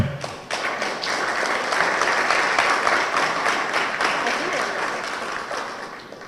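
A seated audience at a formal Supreme Court history lecture in Peru applauds steadily for several seconds, a full, even wash of clapping that holds at one level and tapers slightly toward the end.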